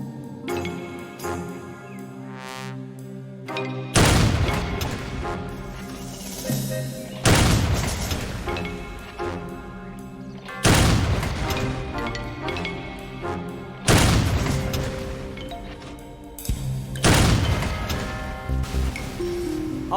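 In the World War II strategy game Faces of War, heavy booming blasts land every few seconds, each trailing into rattling gunfire and debris, loud and close over a continuous battle din.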